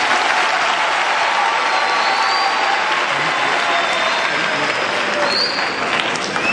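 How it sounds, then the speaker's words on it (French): A large crowd of students applauds steadily and loudly at an official launch event, with dense, even clapping that holds for the whole stretch. "Applaudissez-vous vous-même."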